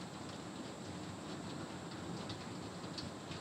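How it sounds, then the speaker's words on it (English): Steady rain falling outside, heard from indoors as a continuous, even wash of noise, faint and distant, with no talking over it. "Oh, listen to that rain."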